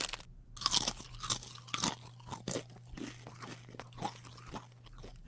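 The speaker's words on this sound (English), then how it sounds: "crunching on snacks like maybe some hot Cheetos" Loud, close crunching and chewing on crisp snacks such as hot Cheetos, a steady run of sharp bites and munches with a low hum underneath and no talking.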